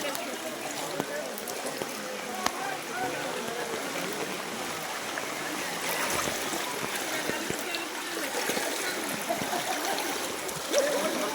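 Fast-flowing flood water in Tamil Nadu, a continuous rushing roar of current heard outdoors throughout, with scattered splashes and faint background noise.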